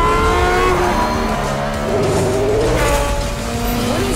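A racing car engine in the Forza Motorsport video game screams at high revs, its pitch climbing and falling through gear changes, loud and close with no talk.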